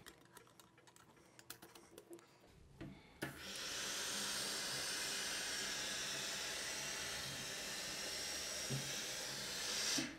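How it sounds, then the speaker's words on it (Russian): A Lelit PS 21 steam generator iron releases a long, steady, loud hiss of steam that starts abruptly after a few faint ticking clicks and runs for about seven seconds. "Пар выходит с той же мощностью, но температура щадящая и безопасная."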